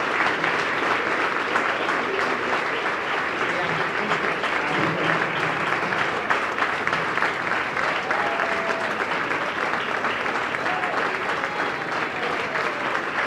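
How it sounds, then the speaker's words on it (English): A large audience applauds in a sustained, dense wash of clapping at Reebok's global headquarters grand opening, steady and full for the whole stretch with only faint voices mixed in. "I want to just give a special round of applause to my buddy Gavin over here"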